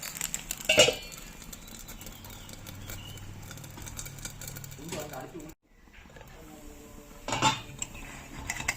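A bun dosa flipped in a pan with a spatula: a brief metallic clatter and scrape against the pan near the start, with a later clink, over steady cooking background, close and moderately loud.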